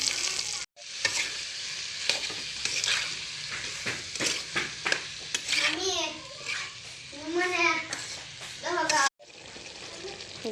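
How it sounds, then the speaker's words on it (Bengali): Oil sizzles and crackles steadily in a close-up pan as it heats for cooking chicken, a dense hiss with sharp pops throughout, briefly cut off near the start and end, while a voice chatters over it midway. "গাইস তেল গরম করতেছি।"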